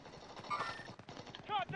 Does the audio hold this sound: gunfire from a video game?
yes